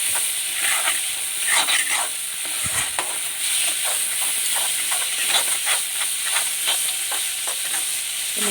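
Spices frying in hot oil for a rajma dish, stirred steadily with a spoon: a continuous loud sizzle and hiss, broken by repeated scraping stirs throughout.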